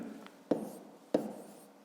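Pen writing on paper while solving a fifth-grade geometry exercise, two short taps with brief scratching strokes in between, close and faint.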